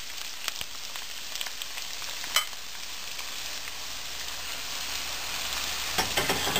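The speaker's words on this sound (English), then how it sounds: "And after 15 to 20 seconds I'm going to add this chopped onion." Chopped onion frying with curry leaves in a pan for a South Indian chicken curry, a steady close sizzle with occasional clicks and stirring scrapes, no voices.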